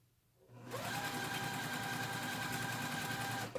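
A sewing machine chain-pieces quilt patches with a quarter-inch seam, starting up after a quiet moment and running in one steady, fast whirring stretch of stitching before stopping.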